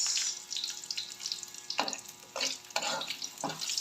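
Sliced onion frying in a pan for a banana-blossom omelette, a steady broadband sizzle with bursts of stirring and scraping, close by and moderately loud, no talking.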